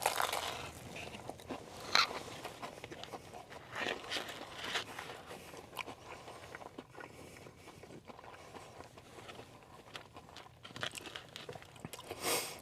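Someone bites into a Taco Bell toasted cheddar street chalupa topped with cilantro and onion, giving soft crunching and crinkling of the shell and wrapper in close, quiet bursts, with chewing noises throughout.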